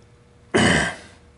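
One short, close throat clearing, a single rough burst that fades quickly, surrounded by near silence.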